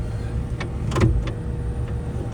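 Electric motor whirring as the powered air seat in a Cat 309 long-track mini excavator cab slides forward and back, a few brief whines over a steady low cab hum.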